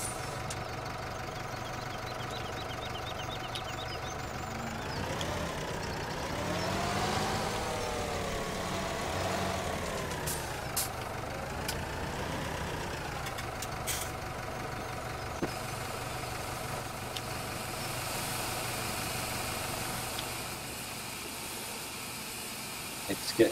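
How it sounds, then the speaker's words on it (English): A tractor engine in Farming Simulator runs and reverses, humming steadily with a rising and falling pitch in the middle as it revs. It stays fairly quiet throughout. "Engine on, reverse back."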